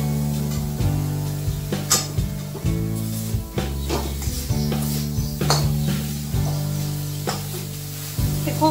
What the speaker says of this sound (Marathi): किसून घेतलेले खोबरे होते ते घालूया आणि परतून घेऊया चांगला